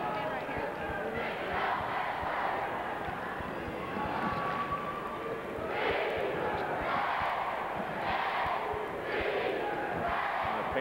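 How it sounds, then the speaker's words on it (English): Home crowd of Pinckneyville Panther fans roars and cheers in a gymnasium during the final minute of a 2001 IHSA boys basketball Class A semifinal, swelling in waves with rhythmic chanting and sneaker squeaks, a steady loud din throughout. "Panther crowd getting into it here in the final minute"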